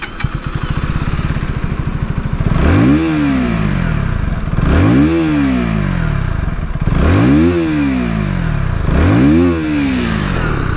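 A KTM Duke 160 motorcycle with an underbelly exhaust revs four times in a row, each blip rising sharply and falling back to a loud, close idle between them.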